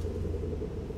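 Steady low rumble of cars passing outside a house at night, continuous and muffled through the walls, with no voices.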